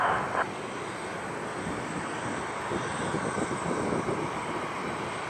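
A jet airliner's engines roar at San Francisco airport, a loud sustained rumble with a steady broadband wash across the whole span.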